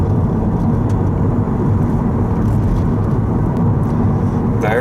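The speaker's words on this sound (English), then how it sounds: "at 100 k's or 60 miles an hour there is still road noise" Steady low road roar and tyre rumble fill the cabin of a 2011 Nissan Leaf electric car cruising at about 60 mph, a constant, dense wash without engine sound.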